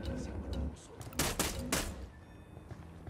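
Gunfire erupts in the Ghost Recon Wildlands shooter: several sharp, rapid bursts cluster in the middle, moderately distant and fairly quiet, with faint voices around them.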